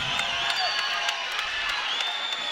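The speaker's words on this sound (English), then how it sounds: "This is good wrestling. The crowd is stoked." Crowd noise at a 2018 college wrestling dual between UVU and the Oklahoma Sooners, a steady roar of cheering and whoops filling the arena with no clear break.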